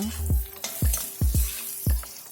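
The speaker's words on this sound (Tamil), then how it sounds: "வெங்காயம், பச்சை மிளகாய் எல்லாத்தையும் போட்டு நல்லா வதக்கிக்கலாம்" Onions and green chillies sautéing in a pan for sabudana upma, a soft continuous sizzle under four or five dull knocks of a spatula against the pan, close and uneven in rhythm.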